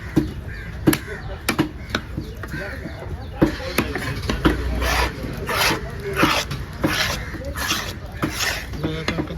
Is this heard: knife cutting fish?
yes